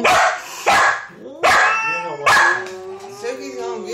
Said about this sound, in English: She's in a corner and Suki's barking at her.